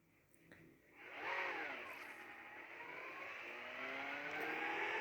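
A car in the Call of Duty video game drives off, its engine rising into a steady revving whine that holds for several seconds, fairly quiet with no talk.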